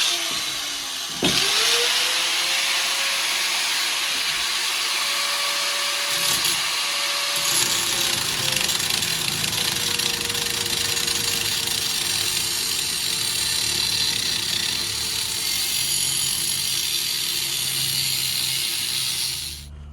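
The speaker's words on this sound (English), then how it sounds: "I'm going to be cutting off that smushed end because I can't really round it out enough to weld this to it." A power tool cuts off the smashed end of an exhaust downpipe with a loud, continuous grinding whine that runs for about twenty seconds after a short start-up burst, with no talk.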